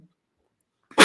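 A single short, loud sneeze bursts out abruptly at the very end after near silence, recorded close to the microphone during a leadership interview.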